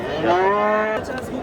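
A cow gives a single long, loud moo lasting nearly a second, close by and clear, followed by quieter farmyard background with no speech.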